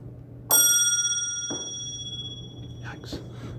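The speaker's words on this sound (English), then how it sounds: "There's a dinger bell." A small dinger bell in a Masonic lodge room gives one bright ding that rings out and slowly decays, followed by a fainter tap, with someone talking afterward.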